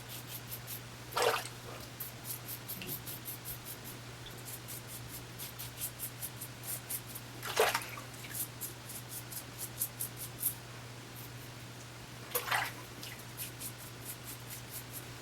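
Razor strokes through Body Shop Maca Root shave cream, giving three brief scraping swishes spaced several seconds apart, close and fairly quiet over a faint steady hum.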